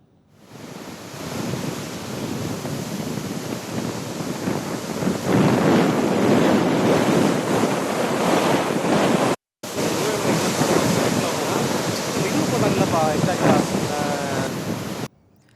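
Rough sea, churning harder than usual during heavy coastal rain, crashes onto the shore in a continuous, loud roar of surf with strong wind buffeting the microphone; a brief dropout interrupts it midway.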